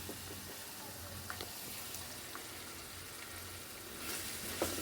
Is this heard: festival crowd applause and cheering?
no